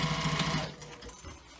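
A sewing machine stitches bag fabric at a half-inch seam, a steady close whirring run that slows and fades after the first half second.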